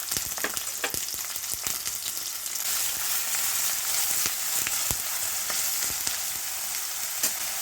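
Onions frying in oil in a pan, a dense, close sizzle running steadily throughout, broken by sharp crackles and pops, no talk.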